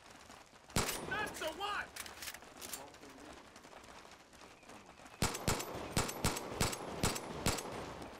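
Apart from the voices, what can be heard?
gunfire in Far Cry 5 video game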